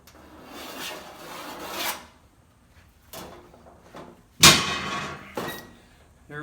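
A straight line about 25 inches long is scribed across snorkel pre-cleaner material, heard as a long, scratchy rasping stroke followed by quieter scrapes and a single sharp knock, all close by.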